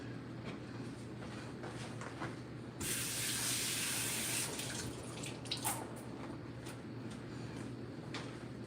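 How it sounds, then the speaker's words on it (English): Parsley leaves are rinsed under a running kitchen tap, a soft trickle that swells into a brief hard rush of water before settling back to a quiet background flow. "These are some parsley leaves that I'm going to wash."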